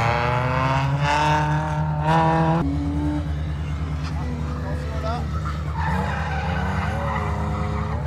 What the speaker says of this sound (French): Un gros coup de frein là-haut au fond de la spéciale